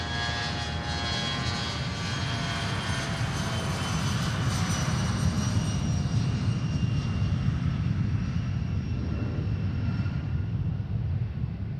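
A private jet takes off from Boeing Field, a steady, loud jet roar with a thin engine whine that holds strong and even throughout, with no voices.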